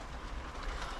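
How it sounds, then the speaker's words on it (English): A passing train heard outdoors at an allotment on a rainy day, a steady broadband rumble and rush with no clear clicks, moderately distant and continuous throughout. "Don't know if you can hear that. That is a train,"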